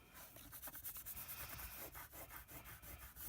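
Quick, rhythmic rubbing strokes by hand clear fast fuse adhesive off a cutting mat, a soft, close, faint scrubbing repeated in rapid bursts with no voices.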